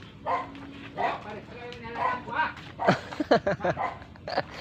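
Several dogs bark and yip in sharp bursts near a goat pen, the barks bunching into a rapid flurry toward the end, with a voice talking over them.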